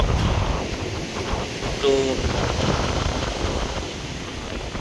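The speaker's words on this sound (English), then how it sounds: "Wind is still pumping." Strong seaside wind buffets the microphone in a constant loud rumble and roar, with surf noise mixed in and a brief faint voice partway through.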